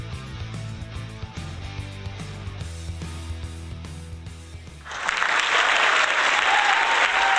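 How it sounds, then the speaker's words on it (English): A live-show audience breaks into loud, dense applause for host Bruce Goldberg, cutting in abruptly after a stretch of music and carrying steadily to the end. "give a nice big round of applause for Bruce"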